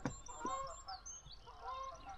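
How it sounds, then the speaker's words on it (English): Geese on Loch Awe give a few short honks at middle distance against quiet outdoor ambience. "Goose are always honking on Loch AWE"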